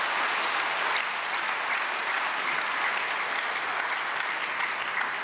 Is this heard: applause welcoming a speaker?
yes